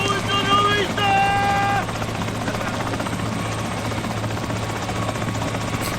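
A helicopter's rotor and engine thrum steadily and loudly throughout, with voices talking over the noise in the first couple of seconds.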